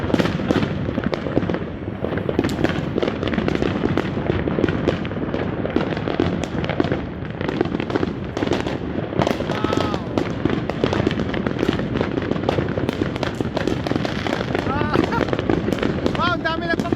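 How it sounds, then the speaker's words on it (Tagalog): New Year fireworks and firecrackers going off around a house in Cypress, Texas: continuous dense crackling and popping bangs at varied distances, loud and unbroken throughout, with a few whistling rockets and occasional voices underneath. "Wow, ang dami nagpaputok ngayon ah."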